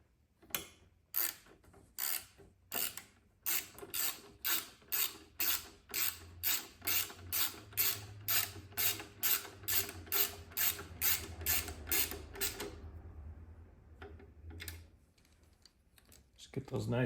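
Bottom screws on a Harley bagger's motorcycle light mount are tightened by hand, producing a rapid series of crisp, evenly spaced ratcheting clicks, close and fairly quiet, that slow and fade near the end.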